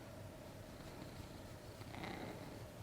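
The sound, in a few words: cat Mr. Max purring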